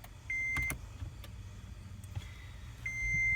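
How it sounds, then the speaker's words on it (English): A 2016 Toyota Prius V hybrid is switched on without starting, and its dashboard gives several short, clear electronic beeps over a faint low hum, with a few soft clicks between them. "Go ahead and turn on your car without starting."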